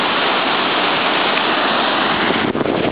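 Powerful water surges through the Aratiatia rapids, a dense, steady roar of white water filling the whole scene without pause, loud and close, with no voices.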